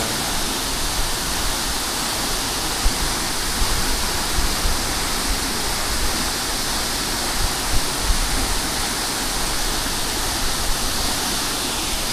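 Jaljale waterfall near Pokhara, Nepal roars as a dense, unbroken wash of falling water, loud and close, steady from start to finish with no voices.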